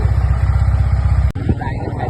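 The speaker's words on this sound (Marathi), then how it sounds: "और ये मनन भाई साहब आ गए अपनी बाइक लेके" A friend's motorcycle idles close by with a steady, throbbing engine rumble at night, broken by a brief sharp knock partway through before the engine note carries on.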